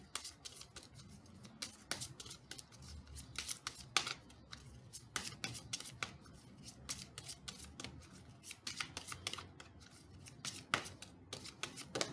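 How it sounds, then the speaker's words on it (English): Tarot cards being shuffled by hand, giving a steady run of close, crisp riffling and snapping bursts with soft rubbing between them, and no talking. "I don't know why it's taking me so long to shuffle this card."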